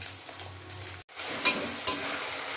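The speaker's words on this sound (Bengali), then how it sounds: "তো ডিমটা ভাজি লাল লাল করে" Eggs frying in a pan until reddish-brown give a steady, close sizzle that drops out for a moment, then returns with a couple of light clinks.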